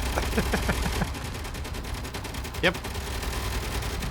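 Rapid bursts of gunfire in Space Engineers crackle over a steady background hum. A voice says one short word toward the end.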